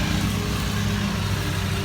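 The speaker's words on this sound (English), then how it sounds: "Feels good when you got two guys working for you out there mowing" Lawn mowers run steadily in the background, giving a continuous droning engine hum with a faint high whine and no pauses; no one speaks.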